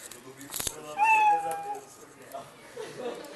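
A single cat meow sound effect from the Scratch programming environment rings out clearly in the middle, with a person talking before and after it.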